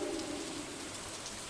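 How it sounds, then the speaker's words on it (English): Steady rain from the video game Stardew Valley, a soft continuous hiss with no breaks, fairly quiet and alone with no voices. "it's raining in the game"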